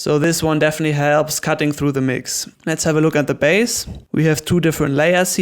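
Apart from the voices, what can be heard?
None of the usual background noises is heard.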